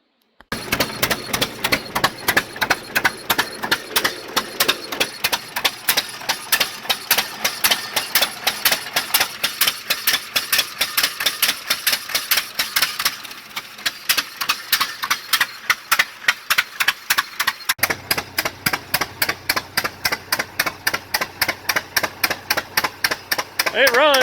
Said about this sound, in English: the next thing you see is going to be the tractor running.